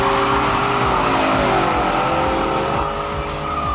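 A Dodge TA race car, a one-year model, is driven hard on a track, its loud engine roaring continuously while the tires squeal steadily throughout, close and without talk.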